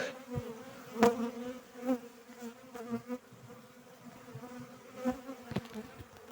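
Honey bees buzzing at an apiary hive in early spring after overwintering: a steady, faint drone of many wings that rises and falls, with no talk.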